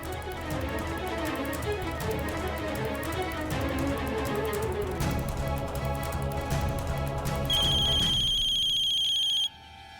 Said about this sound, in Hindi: ये भाऊजी कल्याणी के फोन पर क्यों कॉल कर रहे हैं?